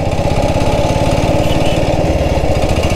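A 1947 BSA BB31 vintage British motorcycle engine running, a loud, close, steady low thumping beat of rapid regular firing pulses with no voices.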